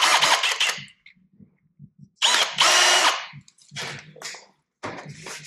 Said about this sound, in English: I'm going back to my step drill.